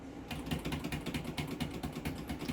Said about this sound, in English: you're either going to spam delete or F2 on your keyboard, which is going to bring you into the BIOS